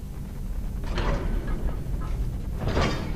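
A door opens in the video game Skyrim, a soft wooden creak and scrape followed by a second louder rustling thud, heard over steady background ambience with no talking.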